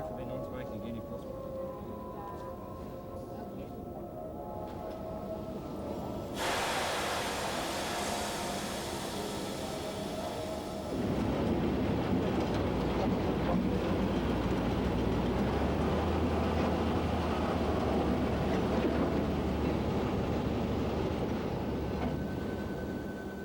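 At a railway depot, a locomotive and rolling stock make a continuous loud rumble that swells partway through, with a steady mechanical drone and voices talking over it.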